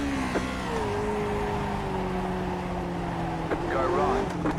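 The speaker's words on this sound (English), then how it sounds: "There's a car going around up here." Grand Prix Legends race car engines at Indy in the iRacing video game, a sustained near engine drone with gliding pitch changes and another car passing, while someone talks over it.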